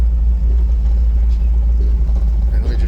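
A 1984 Chevy K5 Blazer V8 fitted with headers and an aftermarket exhaust, a deep steady low rumble close by, heard alone with no talk.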